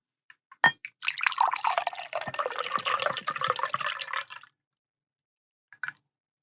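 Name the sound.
pouring Pisco sour cocktail into glass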